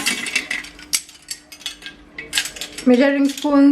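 Metal measuring spoons clink and rattle together as they are handled, a series of bright irregular jingles and taps ending in a denser clatter, up close.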